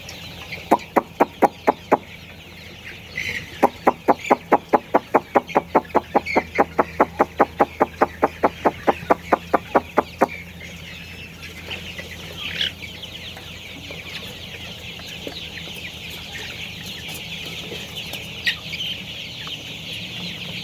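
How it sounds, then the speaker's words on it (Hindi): Chickens and chicks cluck in two quick rhythmic runs of sharp repeated calls near the start, then the clucking fades into a softer, scattered background of bird sounds for the remaining time. "ये चूजे हैं"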